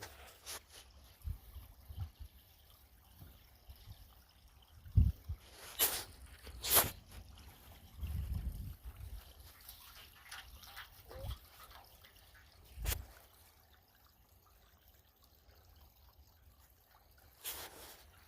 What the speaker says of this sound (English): Let's try to pan it out here a little bit.